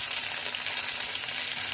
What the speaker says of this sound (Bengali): আলুগুলো একটু লাল লাল করে ভেজে নিয়েছি।